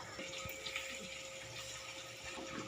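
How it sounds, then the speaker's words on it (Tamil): Cut potatoes being washed in water, a continuous close splashing and trickling swirl with no talk over it. "உருளைக்கிழங்கு கட் பண்ணிவிட்டேன். இப்போ அதை வந்து கழுவுறேன்."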